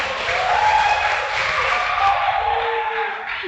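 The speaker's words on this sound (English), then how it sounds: "please give a round of applause to all speakers" Audience applause at a university seminar on ASEAN engagement, a steady broadband clatter of many hands clapping together, fairly loud and sustained for a few seconds with a faint crowd murmur.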